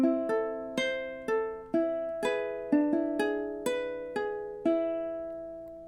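Ukulele fingerpicked notes playing measure 3 of House of the Rising Sun, about ten clear plucked notes in a steady rhythm, each ringing and decaying, close and alone.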